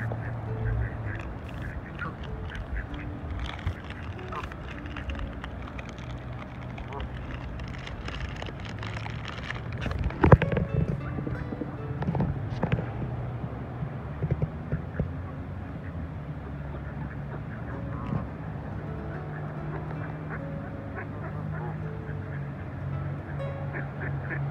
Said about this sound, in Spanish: aquí los patitos quieren comer